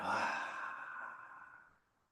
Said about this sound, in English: Full inhale here. And a complete exhale.